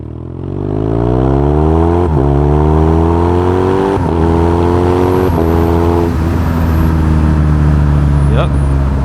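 A motorcycle with a cable throttle accelerates hard through the gears, its engine whine climbing in pitch, dropping at each upshift and rising again, loud and close throughout.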